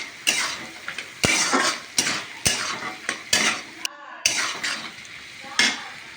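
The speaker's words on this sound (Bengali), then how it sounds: "কাজু বাদামগুলো ভালো করে একটু ভেজে নেব" Cashew nuts fry in a pan with a soft sizzle, and a metal spoon scrapes and clatters against the pan in repeated sharp strokes, close and distinct.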